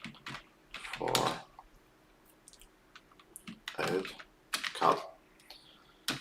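Bursts of fast clicking on a computer keyboard, with several short typing runs separated by quiet gaps and a brief spoken phrase in between.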